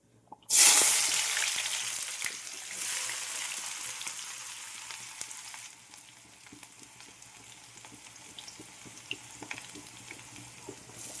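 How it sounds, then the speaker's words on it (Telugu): Mustard seeds spluttering and onions dropped into hot oil in a pan while cooking a chicken and potato kurma, a loud burst of sizzling that settles into a steady crackling fry. "ఇప్పుడు ఆవాలు చిట్టపట్లాడాయి ఇప్పుడు ఈ ఎర్రగడ్డలు వేసుకుంటా అనమాట"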